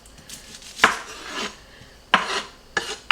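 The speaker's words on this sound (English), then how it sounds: "I'm going to go ahead and start chopping up my onions to add." A knife chops onions on a board in a home kitchen, with three or four sharp, close knocks spaced irregularly among softer scraping and rustling.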